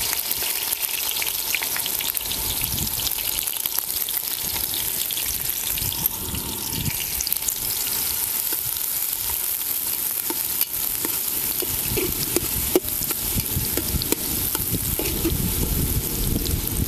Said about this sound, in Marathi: आता यात कांदा टाकायचा आणि चांगला खरपूस असा भाजून घ्यायचा.